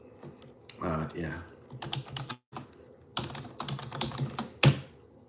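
Rapid bursts of typing on a computer keyboard, dense clattering keystrokes in quick runs broken by short pauses, close and fairly loud with no voice.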